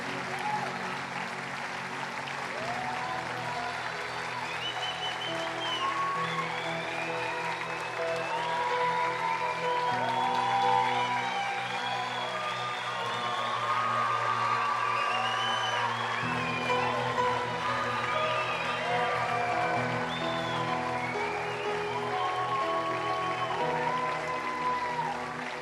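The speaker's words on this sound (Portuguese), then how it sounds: "Eu amei as palmas, mas eu acho que o Senhor merece mais." Church congregation applauding, a sustained, moderately distant patter of many hands over a held musical drone, with some voices and tonal sounds mixed in throughout.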